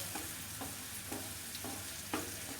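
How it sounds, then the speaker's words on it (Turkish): Onions frying in a pan: continuous sizzling hiss broken by regular scraping stirs about every half second, close up with no talking. "Şöyle güzelce soğanımızı kavurayım ben."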